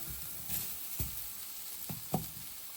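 Mushrooms frying in a pan for beef stew give a soft, steady sizzle, broken by a few light knocks and stirs of a utensil against the pan, close and quiet with no talking.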